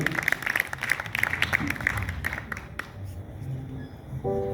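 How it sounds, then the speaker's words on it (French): Applause from an audience after a performance at a festival in Bobo, a dense burst of clapping that thins out and fades near the end. "est-ce qu'on peut applaudir?"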